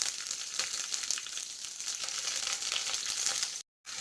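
Onion hits hot oil with mustard seeds and green chilies for vegetable fried rice, giving a soft, steady crackling sizzle that drops out briefly near the end.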